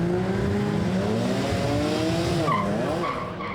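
A Nissan Skyline R33 race car launches from the line at a drag event, loud engine revving and rising through the gears with tire squeal, near and continuous.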